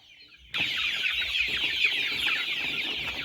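A flock of farm chickens clucks busily around a farmer, expecting food. A dense, close chorus of clucks starts suddenly and keeps going steadily.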